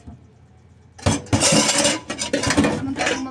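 Dishes and plates clatter and clink loudly during washing up, a burst of jangling knocks after a quiet second, continuing in uneven clusters with no voices.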